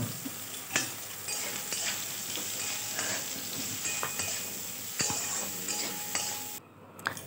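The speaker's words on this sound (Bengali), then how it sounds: "অল্প পরিমাণ নুন, অল্প পরিমাণ হলুদ দিয়ে সয়াবিনটা ভালোভাবে ভেজে নিতে হবে।" Soybean chunks fry in oil with salt and turmeric in a kadai, sizzling steadily while a utensil stirs and scrapes with scattered clinks; the sizzle drops away near the end.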